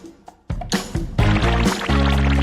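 Water is poured for drinking, a loud close gush that builds and fills steadily after a few soft knocks, with no talk.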